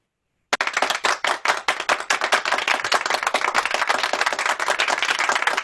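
Applause for a singer at a virtual heart and stroke charity ball starts abruptly after a short silence: brisk, close clapping from a small group that settles into a steady patter.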